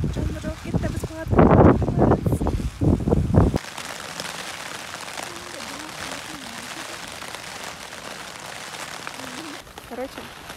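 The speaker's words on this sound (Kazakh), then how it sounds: "Еще далада жаңбыр." Rain falls steadily on and around a tent during a mountain overnight camp at Kok Zhailau, a dense patter with light wind, first under loud nearby talk, then alone and even for the rest.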